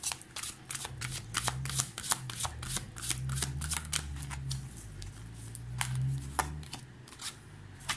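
Angel tarot cards shuffled by hand in a steady run of crisp riffling flicks, close and fairly quiet over a low hum, with no talking.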